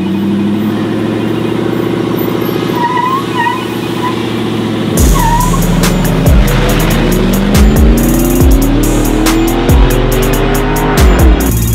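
A 2020 Ford F-150 with a 5.0 engine races a 1995 Honda hatchback: loud, close engines idle and drone, then roar hard under acceleration with repeated rising revs and gear shifts.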